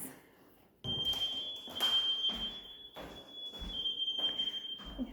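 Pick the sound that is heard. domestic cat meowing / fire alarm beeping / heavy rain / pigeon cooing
fire alarm beeping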